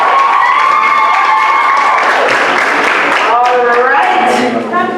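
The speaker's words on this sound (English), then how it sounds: "let me just hear that reflected in a round of applause" A schools debate final audience erupts in loud applause, cheering and youthful shouts, a dense roar with voices rising and whooping above it.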